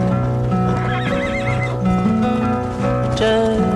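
A horse in the Red Dead Redemption video game neighs and whinnies loudly and close, with clip-clopping hooves and game music underneath.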